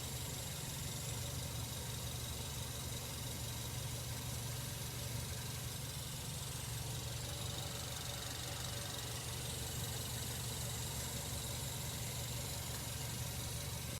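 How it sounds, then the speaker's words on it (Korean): Steady mechanical drone from the underside near the exhaust of a SsangYong Torres, a continuous low hum with a faint whirring layer that holds unchanged throughout, close and with no voices. "차량 하단부 배기 쪽에서 쇠 갈리는 소리, 전기차 엔진 소리 같은 소리가 납니다"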